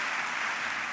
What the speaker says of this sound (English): I'm glad to know I finally found the applause line